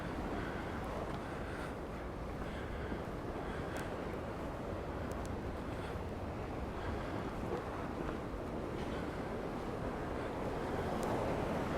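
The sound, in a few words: sea waves hitting the harbour at Port d'Andratx, Mallorca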